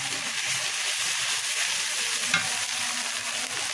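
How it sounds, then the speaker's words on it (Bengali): Spices stir-fried in hot oil for a fish curry, a steady broad sizzle with scraping stirs, close and continuous, with one brief clink partway through. "সুন্দর করে আমি মশলাটা কষাবো।"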